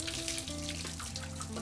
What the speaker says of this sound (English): drain them and rinse with cold water